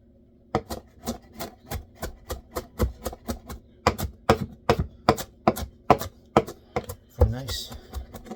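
Herbs being finely chopped with a knife on a cutting board for tabouleh salad, a long run of loud, quick, regular blade strikes, close up, ending in a brief scraping rustle; no one speaks.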